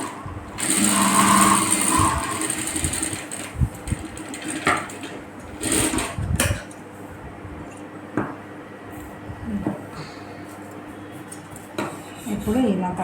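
Sewing machine stitching piping onto the back of a blouse, with bursts of stitching run slowly at the curves and brief pauses between them, close and clear, with faint clatter from handling the fabric.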